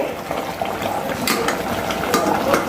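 Chicken sautés in a pan with a dense close sizzle, punctuated by scraping and clinking of a spoon against the metal as it is stirred.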